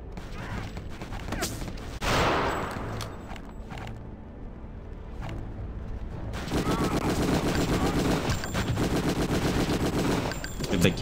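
Gunfire in Return to Castle Wolfenstein, the Kugelstadt level, comes as scattered single shots and then a dense stretch of rapid machine-gun bursts. It sits close and loud, with battle noise underneath.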